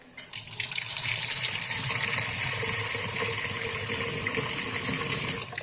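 Dirty water gushes from a tap in a steady, loud, continuous stream after a brief start, with a hissing splash throughout and no voices.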